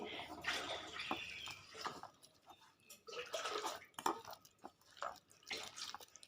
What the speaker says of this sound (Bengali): এবার এর সাথে আমি পরিমাণ মতো অল্প অল্প জল অ্যাড করব